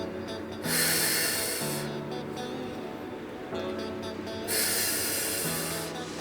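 Two long breaths drawn in during a core exercise for lower-back-friendly abdominal training, each a broad airy hiss lasting about a second, close to the microphone with soft background hum between them.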